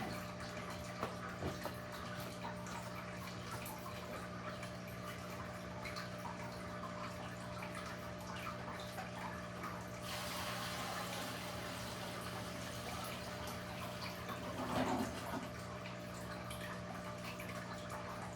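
Steady hum of a pump drawing water out of a fish tank, with a continuous gurgling flow that swells partway through; no voices.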